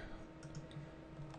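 A computer mouse gives a few faint, quick clicks, followed by a louder knock at the very end, in a quiet room.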